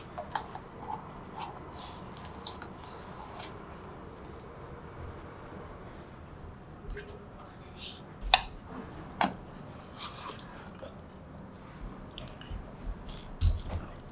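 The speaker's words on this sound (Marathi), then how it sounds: "व्हिपिंग क्रीम घेते चमच्याने." A spoon scoops thick whipping cream for homemade ice cream, making soft, wet squelches and occasional light clinks against the container, scattered and quiet over low background noise.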